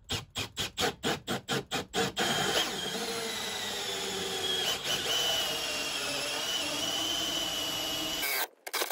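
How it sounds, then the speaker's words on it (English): A power drill fitted with a 25 mm hole saw grinds steadily through material after several short stuttering bursts, close and loud. "Going for a 25 mil hole saw."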